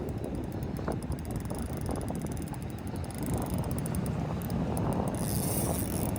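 A fishing reel's drag clicks as a fish pulls line from a skiff near the jetties. The rapid ratcheting sits under steady wind and boat noise, and no one speaks.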